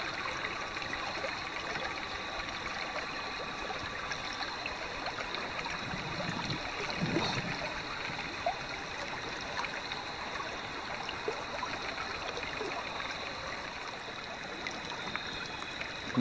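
Water rushes and trickles steadily through a gold dredge converted to an over/under setup, a faint constant wash with no voices.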